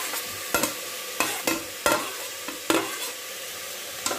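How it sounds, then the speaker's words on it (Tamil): Three large chopped tomatoes with ginger garlic paste sauté in a pan, giving a steady soft sizzle broken by repeated scraping stirs of a spoon. "இது நல்லா மேஷ் ஆகுற அளவுக்கு வதக்கிக்குவோம்."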